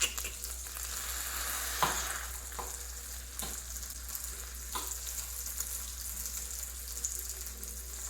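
Cream of rice batter cooking in an oiled waffle iron, a soft continuous sizzle and hiss with a few faint clicks and taps, fairly quiet and steady.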